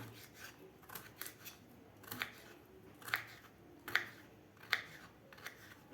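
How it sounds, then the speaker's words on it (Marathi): Raw mango is finely chopped with its skin left on, giving a quiet run of crisp, irregular cutting clicks that grow sharper and more spaced out toward the end. "साली सगटच कैरी कापायची आहे आपल्याला एकदम असे बारीक बारीक कैरी कापून घ्यायची आपल्याला"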